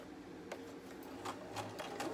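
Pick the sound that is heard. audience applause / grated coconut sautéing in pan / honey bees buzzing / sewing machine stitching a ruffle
sewing machine stitching a ruffle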